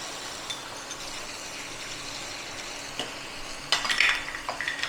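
Chicken mince fries quietly in mustard oil in a pan over low heat, a soft steady sizzle with a few louder scrapes and clinks near the end, and no voices.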